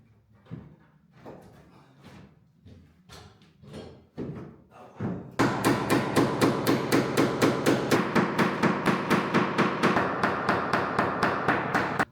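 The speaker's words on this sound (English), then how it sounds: "once I started using the hammer, the boards went up pretty quickly" Hammering boards onto studio gallery walls, first a few irregular hollow thuds, then a long steady run of loud, evenly spaced hammer blows close by.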